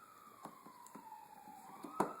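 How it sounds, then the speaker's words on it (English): A police siren wails faintly in the distance outside a home, a long steady tone heard through quiet indoor room noise with a few light handling clicks. "You can hear the police sirens going."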